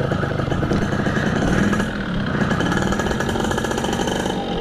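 A Yamaha F1ZR two-stroke motorcycle with a smooth aftermarket exhaust runs loud and close, its engine buzzing in a steady, rattly drone with slight swells in revs throughout.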